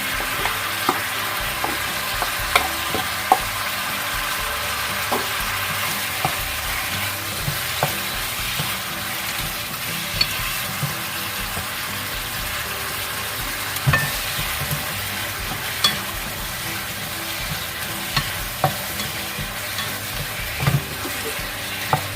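Eggplant stir-frying in a pan with basil and chili, a steady close sizzle broken by recurring clicks and scrapes of a spatula stirring, with no voices.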